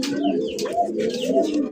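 Pigeons, including a black colouring rasgulla pigeon, coo continuously in a low, rolling rhythm, close and clear with faint chirps above and no talking.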